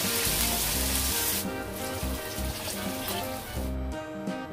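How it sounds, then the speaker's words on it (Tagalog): Fresh corn kernels sizzle and crackle steadily as they sauté in a hot pan, a loud, continuous frying hiss with brief shifts in intensity. "pwede nang ilagay ang mga ginayat na mais. Igisa-gisa lang ito ng 1 minuto."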